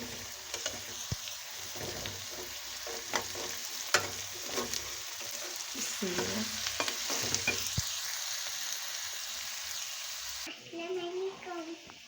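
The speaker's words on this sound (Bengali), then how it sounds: "এই যে আমার শাক ভাজা অলমোস্ট রেডি" Red amaranth and pumpkin leaves stir-frying in a pan give a steady, close sizzle, broken by repeated scraping and stirring strokes, which end abruptly near the finish.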